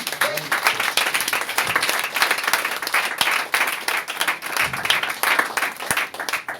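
A church congregation at a French-language worship service applauding and cheering for the Lord, sustained clapping with crowd voices mixed in.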